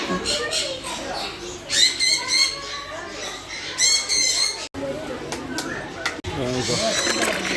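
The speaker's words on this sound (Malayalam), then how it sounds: "പിന്നെ കുറേ കിളികളും ഒക്കെ ഉണ്ട്" Birds squawk and chirp in bursts under a person talking, the calls rising over a busy outdoor background.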